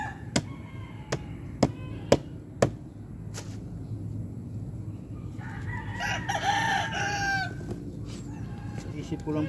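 Chickens on a farm: a series of sharp, loud clucks and squawks, then a rooster crowing close by over a constant busy background of hens clucking, with a voice faintly present.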